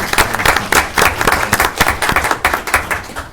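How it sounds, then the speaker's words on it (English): Enthusiastic applause from a crowd at a board meeting, many hands clapping densely and steadily for a few seconds, loud and close. "let's give them an applause for what they're trying to do."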